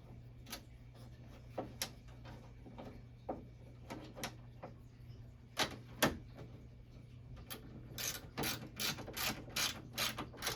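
Screws being tightened on the marquee of a Journey arcade cabinet during restoration, giving scattered ratcheting clicks and ticks close by that end in a quick rhythmic burst of turns.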